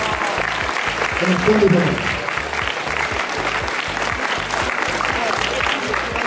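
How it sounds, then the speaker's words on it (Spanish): A school audience applauds at a sports awards ceremony, steady loud clapping from many hands throughout with a voice briefly speaking over it. "Un aplauso"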